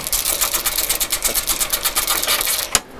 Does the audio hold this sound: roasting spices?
no